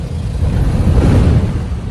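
A car engine running early in the morning in Bangalore as the vehicle pulls out, a steady low rumble that holds close and even throughout, with no starter crank audible.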